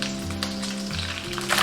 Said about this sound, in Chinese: 锅中倒少许食用油，油热过后下入鱼豆腐，中小火慢煎。